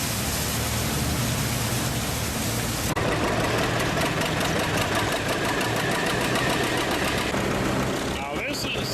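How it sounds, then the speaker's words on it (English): An older threshing machine runs belt-driven from a tractor at an antique tractor show, giving a steady, dense mechanical roar with rhythmic clatter throughout that briefly shifts near the end. "It's hooked up to a older thrashing machine."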